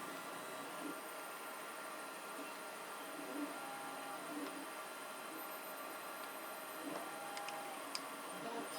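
A 3D printer prints a GTech AirRam wall bracket at 10% infill and 0.3 mm layer height. Its soft, steady mechanical whir carries faint stepper-motor tones and occasional light ticks, with no voices.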